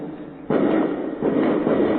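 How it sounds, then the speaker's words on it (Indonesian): Fireworks go off outside during an indoor lecture, heard as two muffled, booming bursts with a rumbling tail, fairly distant and dulled by walls. "Kembang api."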